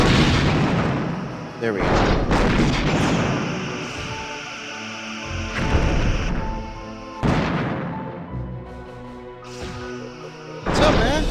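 Starship weapons in Star Trek Bridge Commander fire in heavy bursts, four loud booming blasts a few seconds apart, each trailing off into a rumbling decay. Someone speaks briefly between shots.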